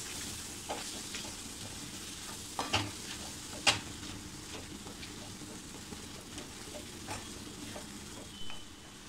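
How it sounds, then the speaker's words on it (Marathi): Kitchen King masala sautés in oil in a pan for dhaba-style paneer masala, giving a soft continuous sizzle with light scraping stirs and a few sharp spoon clicks against the pan. "1 चमचा किचन किंग मसाला, हे सुद्धा आपण असं छान परतून घेऊया"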